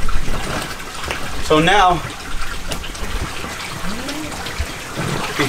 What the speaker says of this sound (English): I'm literally pushing all the air out and putting more water in.